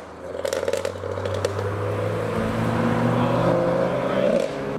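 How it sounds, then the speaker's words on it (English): A BMW M140 in Art Car livery accelerates hard around a business-park roundabout, its engine note climbing into a loud, rising roar with crackling exhaust as it draws near. "The M140, here it comes"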